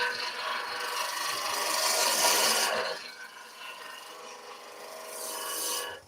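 Wood being cut by a turning tool on a spindle lathe, a steady abrasive rasping hiss that grows louder, drops off, then swells again near the end.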